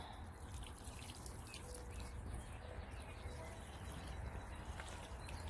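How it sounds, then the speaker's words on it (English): Water trickles and drips softly onto soil in a container of freshly planted bean seeds, a faint steady wash of pouring with no talk. "now I'm just going to water these in"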